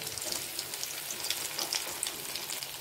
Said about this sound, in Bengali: এইভাবে আমি কোপ্তাগুলো 2 পিস লাল লাল করে ভেজে নিচ্ছি এক সাইড করে।